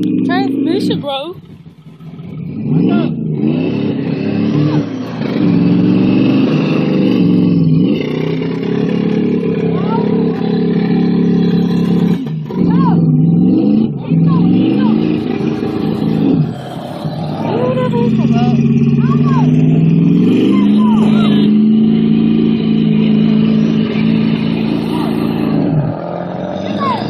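A brand new pickup truck sits stuck in a pond, its engine revving hard and roaring in repeated surges with water churning around it, while people talk loudly over it throughout.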